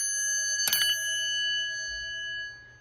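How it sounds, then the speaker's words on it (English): A Westinghouse elevator bell gives a single close, clear ring that leaves a long, steady metallic tone fading slowly in a quiet room. "This one is a Westinghouse bell"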